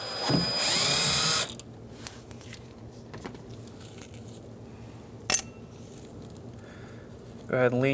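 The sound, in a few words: power drill removing Phillips screws from Mazda CX-9 door speaker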